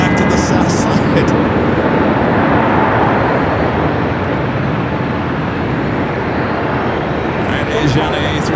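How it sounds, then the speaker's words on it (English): Asiana Airbus A380 starting its takeoff roll on runway 25L at Los Angeles airport, a loud, broad, steady jet roar filling the scene with faint talk over it. "Asiana A380 Super now rolling down the 25 left"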